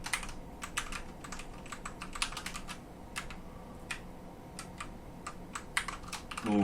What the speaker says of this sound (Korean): 키보드를 누른 경우에 삑 소리가 나고 0을 누른 경우도 삑 소리가 나도록 했고요